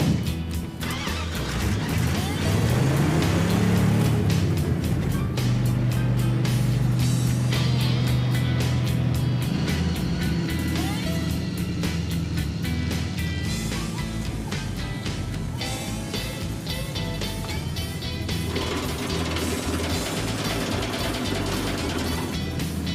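A hotwired tow truck driving back to the shop, a steady engine drone with gear-shift pitch changes, rattling and clunking from the vehicle throughout, close and continuous.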